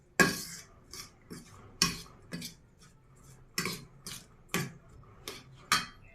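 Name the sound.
mixing omelette ingredients in a bowl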